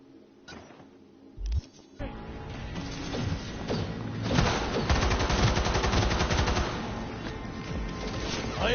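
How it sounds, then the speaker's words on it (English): Rapid gunfire in Cyberpunk 2077, a dense run of automatic bursts and impacts building from quieter rumbling into sustained loud fire, with voices calling out over the combat. "I am taking fire!"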